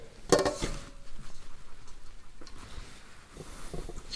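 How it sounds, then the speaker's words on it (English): Meat and dry ingredients for beef stroganoff drop into a crock pot with one sharp clatter near the start, then softer scattered rustles and light knocks follow close by. "So let's open the crock pot and just throw it in."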